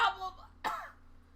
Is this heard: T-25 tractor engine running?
no